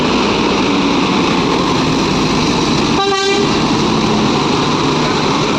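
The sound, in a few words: JRG bus departing from Pekanbaru bus terminal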